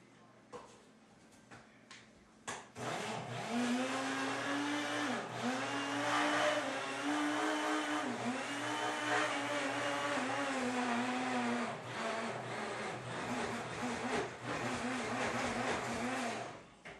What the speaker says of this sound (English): I'm just going to take this to my mixer